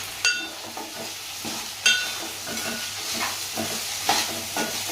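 Sprouts fry in a pan in a home kitchen, with a steady low sizzle under several sharp clinks and scrapes of a spoon stirring against the metal, close and moderately loud.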